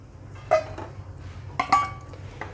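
A spoon works a kalakand mixture of boiled milk and prepared paste in a pot, giving two sharp metallic clinks and a scrape against the rim over a quiet background.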